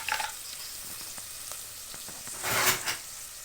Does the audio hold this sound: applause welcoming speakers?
no